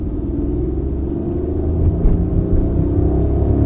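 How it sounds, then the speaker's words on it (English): A Hyundai Venue iMT engine pulls hard in second gear, a loud deep rumble building steadily as revs climb, heard from inside the car with no talking. "So I'm just putting my foot down in 2nd gear."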